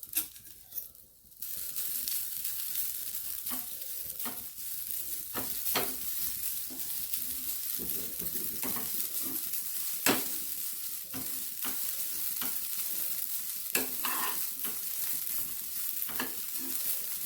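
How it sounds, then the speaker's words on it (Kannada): Grated coconut being stir-fried in a pan until brown, with a spatula scraping and stirring in repeated strokes over a steady soft sizzle, close and alone. "ಬ್ರೌನ್ ಕೆಂಪು ಕಲರ್ ಬರೋ ತನಕ ಹುರಿಬೇಕು."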